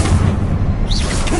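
The Confringo spell bursts in Hogwarts Legacy as a loud, dense boom with a rumbling low end, followed by a brief swooshing sweep, close and filling the whole moment.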